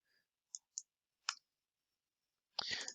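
A computer mouse gives a few faint, sharp right-clicks, spaced apart in an otherwise quiet room. A louder rustle or shuffle follows at the end.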